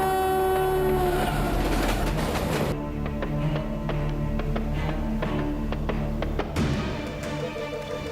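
A train approaches along the tracks, its loud sustained horn blaring at first, then a rumbling rush with rhythmic clacking of wheels that swells again near the end.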